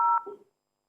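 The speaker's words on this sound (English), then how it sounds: "Is someone playing with a dialing pad there?" Telephone keypad DTMF dialing tones cut into a live broadcast: one short, clear electronic tone followed by a brief, quieter trailing tone that fades within half a second.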